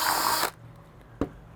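A power drill bores a small hole through plastic with a loud, close whirring burst that cuts off abruptly, followed by quiet and then a single sharp knock.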